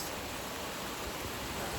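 Heavy rain pours down as a dense, unbroken hiss that stays loud and even throughout, with nothing else rising above it.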